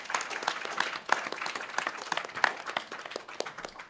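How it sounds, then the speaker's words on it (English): A modest round of audience applause after a panel discussion on Black radicalism, individual claps distinct and fairly close, uneven and lively for a few seconds before thinning out. "we can have a round of applause for our first setup"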